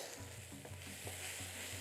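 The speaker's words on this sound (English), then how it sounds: "So saute the onions for a minute," Onions sauteing in a pan for a creamy spinach pasta sauce, a faint, brief steady sizzle with soft stirring scrapes.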